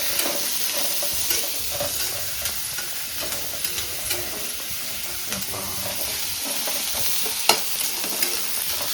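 Fish with pepper frying in a smoking pan while being stirred, a steady close sizzle with scattered scraping clicks of the spoon and one sharper knock near the end.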